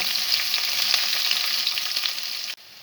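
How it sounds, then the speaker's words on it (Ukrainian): Onion and garlic frying together to a golden colour in a pan, a loud, dense, steady sizzle with faint stirring ticks, cutting off abruptly near the end, with no talking. "І теж її обсмажуємо до золотового кольору вже разом з часником."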